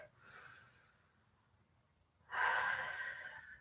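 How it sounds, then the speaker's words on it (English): A person takes a slow, deep breath in and then lets it out in a longer, louder exhale, close and clear against a quiet background. "nice big deep breath in and out"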